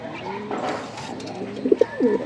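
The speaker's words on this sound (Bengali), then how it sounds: "হাই ফ্লাইং কবুতর" Maxi racer and giribaz high-flying pigeons coo softly in a loft, several low throaty calls bunched near the end over a quiet background.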